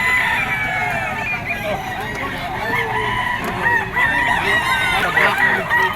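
Roosters and stags at a busy market in Bocaue, Bulacan crow and cluck continuously, with several birds overlapping close by and people talking in the background.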